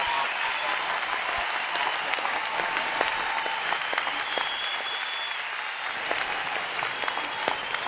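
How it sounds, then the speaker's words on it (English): A gala audience applauds performing artists at the Greenest Heroes Gala with loud, steady, dense clapping that continues evenly for about eight seconds, with no talk over it. "Please, please applause and thank these wonderful, talented artists"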